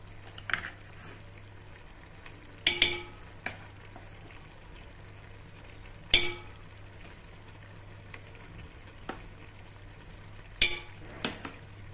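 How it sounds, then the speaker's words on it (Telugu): Spice paste for chicken donne biryani frying in a pan under a low constant hum, with scattered clinks and scrapes of a spoon stirring it at irregular intervals. "బాగా డ్రై అయ్యేంత వరకు మనం ఇలా కొద్దిగా కలబెడుతూనే ఉండాలి ఫ్రెండ్స్"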